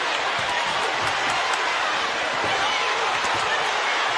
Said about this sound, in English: The crowd is going wild here in Flint.